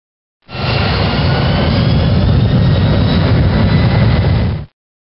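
Boeing 737NG jet engines roar steadily at high power in reverse thrust, a loud, continuous broadband rush that starts abruptly and cuts off after about four seconds, with no voices.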